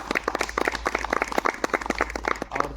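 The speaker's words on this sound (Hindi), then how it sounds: "तो इनके लिए आइए जोरदार ताली बजाएं।" An audience at a YouTubers meet-up in Jashpur claps in a moderately loud, uneven burst of applause with distinct individual claps, and no speech is heard over it.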